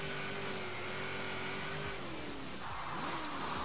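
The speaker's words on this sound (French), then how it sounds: "Oh, ce drift à la Paul Walker!" A car revs and slides through a drift in Forza Horizon 3, the engine droning steadily with a falling pitch as it swings, and a brief tire squeal near the end.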